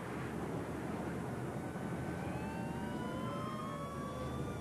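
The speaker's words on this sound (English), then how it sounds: "The plane slams to the ground, screeching along the tarmac." A B-24 Liberator bomber crash-landing on a runway with its front landing gear collapsed, a loud continuous roar of the airframe scraping along tarmac with rising metallic screeches, heard alone.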